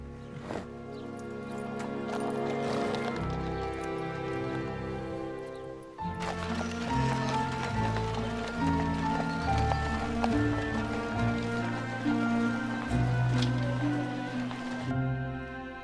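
Horse hooves clip-clopping in a steady rhythm beneath a sustained musical score, the beat continuing throughout with a brief break partway.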